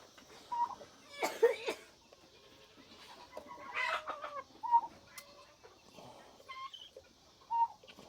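An older hen clucks in short, scattered bursts, fairly close, with soft pauses between calls and a few other faint bird sounds around.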